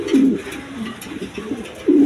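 Pigeons kept as a breeding pair for sale coo a few times up close, soft throaty calls repeating at short, uneven intervals with no talking.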